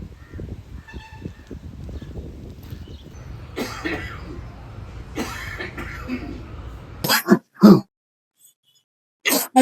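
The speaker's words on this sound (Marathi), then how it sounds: "आजी किती दिवसापासून बाबांना खोकला येतोय असं?" An elderly man with a persistent three-month cough in a poor rural home: after a low background murmur, a few harsh, close coughs break out in short bursts, then a final cough at the end.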